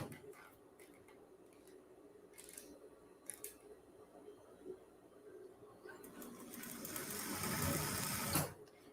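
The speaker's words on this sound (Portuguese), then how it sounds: "Eu vou costurar ela aqui, porque é a primeira coisa que eu tenho que fazer na camisa" A sewing machine stitches a shirt, with soft ticking and clicks at first, then a louder, faster run of stitching near the end.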